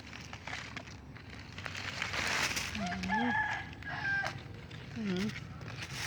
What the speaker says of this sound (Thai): มีไก่ขันให้ฟังด้วยนะคะ